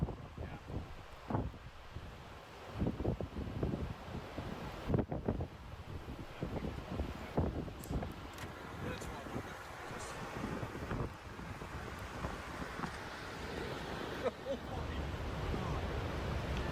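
Tornado winds roar steadily during an intercept near Gary, South Dakota, a loud continuous rumble with heavy wind buffeting the microphone and sharp gusts throughout.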